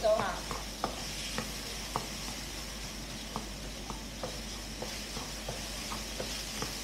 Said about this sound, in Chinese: 我们现在就翻动下它，炒下它。